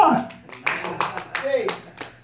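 Church congregation clapping for the choir, scattered bursts of handclaps mixed with someone talking loudly over them and a voice, uneven and fairly close.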